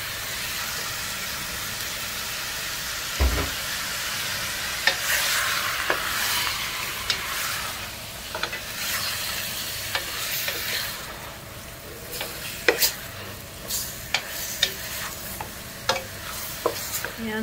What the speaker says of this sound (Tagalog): saute, more saute. Mix it para maghalo lahat ng mga ingredients sa manok